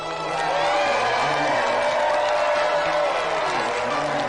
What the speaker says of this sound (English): So another round of applause for our two final contestants